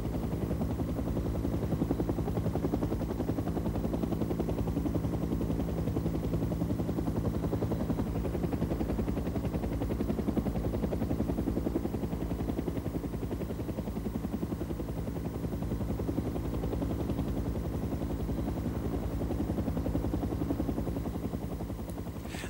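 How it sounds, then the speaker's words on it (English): Helicopter gunships circle during the Vietnam War, a steady loud rotor thrum and engine drone holding continuously with little change, with no voices over it. "The gunships remain in the area throughout, circling and laying down suppressive fire until the last of the transports have left."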